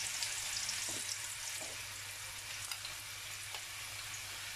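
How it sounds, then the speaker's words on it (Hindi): Spices such as crushed red chili, turmeric and salt fry in a pan, giving a steady, quiet sizzle with a few soft stirring taps and no talking. "अच्छे से भूनेंगे हम इन्हें। पाँच छः मिनट हमने बस इनको भूनना है।"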